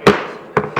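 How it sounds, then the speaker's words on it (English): A gavel strikes sharply three times at a city council meeting: one hard bang, a pause, then two quicker knocks, loud and close in a quiet room. "I'll bang the gavel once he's got the last one."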